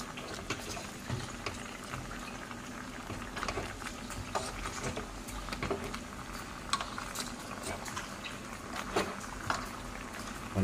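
Braised pork and pork intestines simmer in a pot, with a steady close bubbling and sizzling texture dotted with small pops, continuous and moderately loud.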